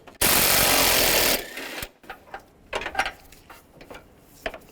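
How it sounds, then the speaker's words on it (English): Bolts removed with a 15mm socket during radiator replacement on a 2006-2011 Cadillac DTS: a loud, fast mechanical rattle lasting about a second, followed by scattered quieter clicks and clanks of tools and parts. "Now take these 2 bolts off, use a 15mm socket."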